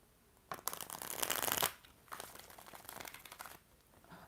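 Tarot cards shuffled by hand during a live reading, a few quick riffling bursts with crisp papery crackle, the first long and loud, then shorter softer shuffles following, close up and quiet overall.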